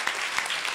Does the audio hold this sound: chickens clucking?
no